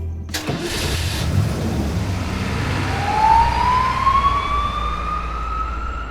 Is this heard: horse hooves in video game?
no